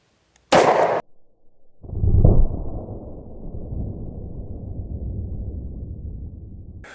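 A .44 Special Lew Horton revolver fires a jacketed hollow point at a water-filled milk jug outdoors: one sharp, loud crack, then a short gap and a long rumbling roll of echo and splash that slowly fades.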